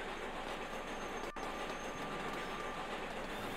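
Trains roll along rails in the transport-building game Sweet Transit, a steady broad rumble with a faint clickety-clack of wagons and one sharp click partway through, continuous and fairly loud with no voices.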